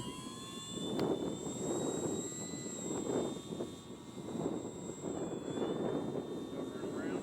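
A radio-controlled Buffalo model airplane flies in stiff, gusty wind, its engine a steady whining drone that rises and falls as it passes, partly masked by wind noise and with voices talking over it.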